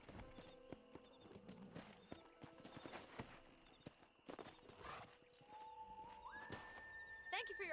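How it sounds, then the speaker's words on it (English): Horse hooves clip-clopping during riding in the video game Red Dead Redemption, a steady rhythmic gait with occasional whinnies under game music and effects, with spoken dialogue. "Y ahora vuelve a montar tu caballo"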